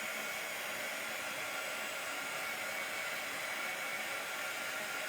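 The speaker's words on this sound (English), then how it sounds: "Let me blow dry this some. We're going to blow dry it a little bit" Close, steady airy rush of a hair dryer blowing over napkin decoupage on a glass jar, continuous and even from start to finish with no speech.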